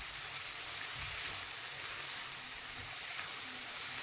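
Fenugreek leaves cooking in a spice masala give a steady, soft sizzle and frying hiss, quiet and close, continuous with no talking.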